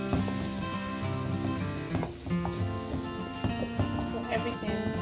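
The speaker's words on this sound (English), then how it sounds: "I'll give it a quick stir." Corned beef meat pie filling with rosemary stirred in a pan, a steady close sizzle with scattered scraping and tapping from the spoon, alongside faint background music.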